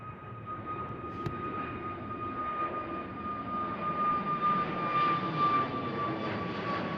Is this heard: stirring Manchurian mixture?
no